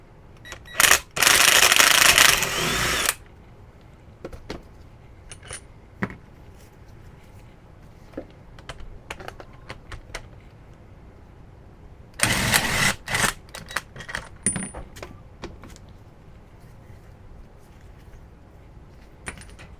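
A C3 Corvette brake caliper being taken apart, with two bursts of loud metallic rattling and scraping separated by scattered clinks and taps of parts and tools, close by with no talk.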